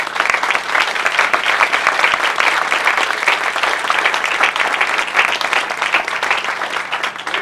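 A large outdoor crowd claps steadily for the city council at a marina groundbreaking ceremony, dense sustained applause filling the whole stretch at a loud, even level with no talk over it.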